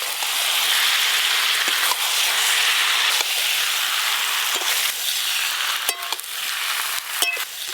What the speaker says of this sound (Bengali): আলু পটল চিংড়ি মাছ আর মশলা সব কিছু ভালো করে কষিয়ে নিয়েছি